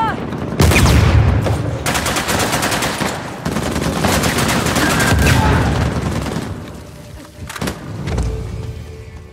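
Loud, sustained bursts of rapid fire from a mounted gun in the video game Uncharted: The Lost Legacy, hammering almost continuously with a brief break before a final volley.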